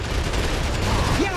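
Gunfire in the video game Gears of War 3, a dense, continuous burst of shots that fills the brief moment at steady loudness with game noise underneath.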